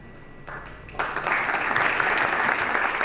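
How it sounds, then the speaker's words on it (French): A conference audience breaks into applause for a speaker, starting faintly and then swelling at about one second into a full, sustained round of clapping. "Vous avez raison de l'applaudir"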